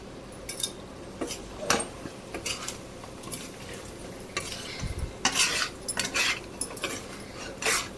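Spoon scrapes and clinks against a pan as spicy chicken fry with curry leaves is stirred, giving irregular metallic taps and scraping bursts over a faint sizzle, with no talk.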